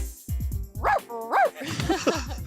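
A person imitates a little dog's bark with several short, high yips and yaps in quick succession, close and clear.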